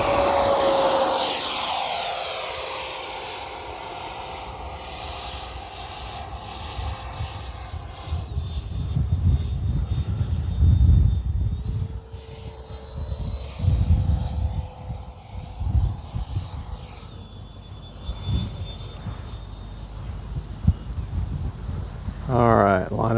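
A Freewing 90mm F-22 RC jet flies overhead, its electric ducted fan whining loudly at first, then fading and shifting pitch as it passes farther away, with wind and a voice talking underneath.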